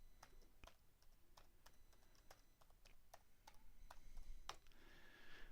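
Keystrokes from a password typed on a computer keyboard, a steady run of soft, close clicks and taps with brief irregular pauses, no talking.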